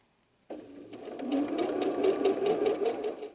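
A sewing machine stitching a crazy quilt block during a quilting workshop starts up abruptly after a brief silence, then runs as a close, steady mechanical whirr.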